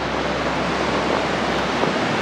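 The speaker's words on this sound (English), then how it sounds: "Hopefully you can hear the rushing water now though." The Colorado River rapids near Lees Ferry in Marble Canyon roar in a steady, loud broadband rush of water, with some wind buffeting the microphone and no voices.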